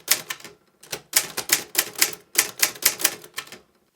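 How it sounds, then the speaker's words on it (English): Keys strike an Olivetti Graphika manual typewriter in quick clattering bursts, each word a rapid cluster of sharp close-up clacks separated by short pauses. "Now I will show you the difference between the left spacebar and the right spacebar by typing the word"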